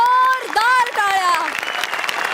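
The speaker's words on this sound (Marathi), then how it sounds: "जोरदार म्हणजे जोरदार टाळ्या" Audience at a Marathi TV comedy show clapping loudly and steadily after a sketch, the applause running the full length under a prominent melodic voice or musical tones that rise and fall over it.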